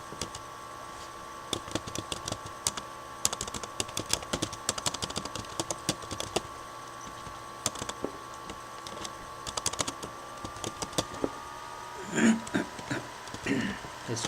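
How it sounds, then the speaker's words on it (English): Typing on a computer keyboard while entering SQL commands in MS Access, a steady run of close, light key clicks with irregular rhythm, ending in a few louder bursts. "I am just typing for your better understanding"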